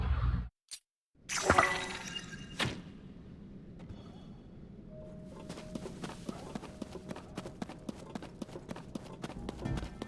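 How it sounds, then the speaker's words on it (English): Skeleton horses' hooves clip-clop in steady, evenly spaced beats in the video game The Legend of Zelda: Tears of the Kingdom, following a few sharp impacts and a brief silence, fairly close and moderately loud. "The skeleton horses from back then?"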